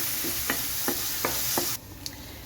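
Chopped onion sautéing in a Chinese wok (cheena chatti) for a Kerala ozhichu curry: a steady loud sizzle with four or five sharp scraping stir strokes in a row, after which the frying drops to a quieter hiss.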